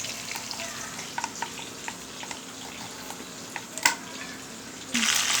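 Bitter gourd pieces frying in oil make a soft, steady sizzle with scattered crackles and clicks from stirring, ending in a louder burst of hiss.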